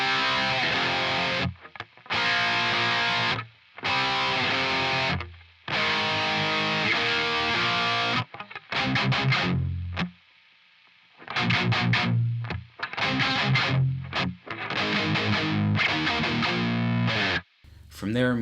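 An electric guitar in standard E tuning plays the intro of a song with heavy distortion and effects, in loud chopped bursts separated by brief silences.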